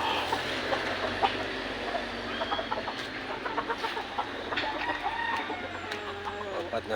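Young stag rooster in a backyard pen, clucking and giving short calls repeatedly at close range amid other fowl and a faint crow, with someone talking over it.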